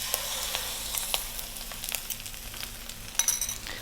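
An egg dropped into a hot pan beside rice, sizzling and crackling loudly on high heat with dense spitting pops, close and continuous with no talk.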